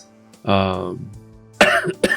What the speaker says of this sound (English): Sorry, coughing again.